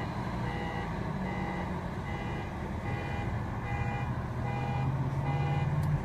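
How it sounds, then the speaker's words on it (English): Traffic rumble in a Home Depot parking lot, with a vehicle's repeated reversing beeps pulsing over a steady engine drone at moderate distance. "We're at a Home Depot parking lot right now, and as you can tell, it's loud."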